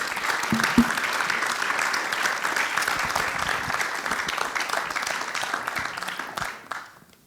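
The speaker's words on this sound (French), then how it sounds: "On peut les applaudir." An audience at a TEDx-style talk gives sustained, dense applause that holds steady before tapering off and dying away at the close.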